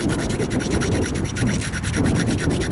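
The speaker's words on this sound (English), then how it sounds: "you can tell I'm grinding with all my might. It's barely taking a grind" A knapped mookaite flint point has its edge ground hard against an abrasive, giving a continuous, close, rasping scrape with rapid rhythmic strokes throughout.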